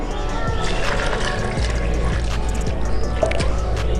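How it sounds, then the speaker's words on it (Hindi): Two to three glasses of water poured into a pot of chana dal with garam masala and cloves for a dhaba-style recipe, a loud continuous splashing gush with bubbling and sloshing throughout, and no talking. "और इसी के अंदर हम डाल देंगे 2 से 3 गिलास पानी।"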